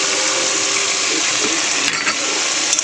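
Water is poured into a pan of frying spice masala made with ginger-garlic paste, slit green chillies, turmeric and chilli powder, giving a steady, loud gushing hiss with sizzling throughout and a few brief clatters near the end, no voices.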